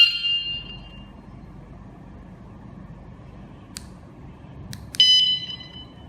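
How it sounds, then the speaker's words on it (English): A vehicle security alarm gives a couple of short, sharp electronic beeps at the start and again near the end, with a few brief clicks in between against a quiet background. "The alarm will sound a beep of then 5 beeps, then the function is on."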